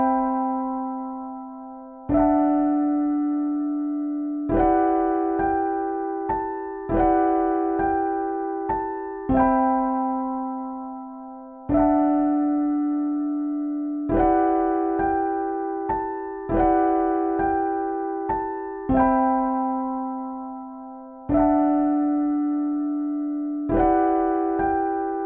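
A free electric keys plugin instrument being demoed: a clean, bell-like electric piano plays a slow repeating chord progression of sustained, decaying chords with lighter melodic notes between them, alone and steady.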